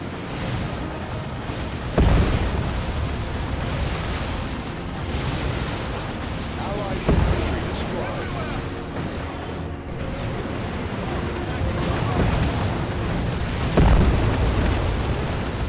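Explosive shotgun blasts in a Warhammer 40k battle game with Imperial Guard armor, several heavy booming bursts spaced a few seconds apart over a dense, continuous rumble of battle noise.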